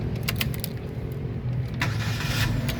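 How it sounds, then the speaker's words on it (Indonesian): A 2015 Chevrolet Spin 1.5 LTZ manual car starts up: a steady, fairly loud mechanical churn with a brief rise near the end as the engine catches. "berikutnya kita coba nyalakan mobil"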